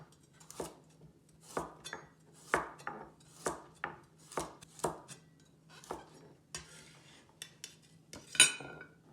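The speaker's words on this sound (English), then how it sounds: "Cut the end from the carrot. Cut the carrot into chunks." A knife chopping a carrot into chunks on a board, about a dozen crisp separate thunks at an unhurried, slightly uneven rhythm, close and quiet, with a faint steady hum underneath and no talk.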